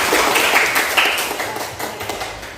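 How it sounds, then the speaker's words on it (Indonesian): A classroom of students clapping their hands together, a busy, fairly loud patter of many claps that tapers off slightly toward the end. "Ya, tepuk tangan buat kalian."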